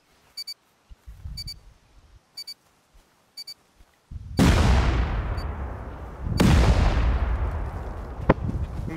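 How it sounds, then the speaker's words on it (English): C4 charges blowing a wall in a raid video game: a few faint electronic beeps and ticks, then two loud, close blasts that boom and roll off into long rumbling decay. "C4 on it. You go. Blow this wall right in front of me."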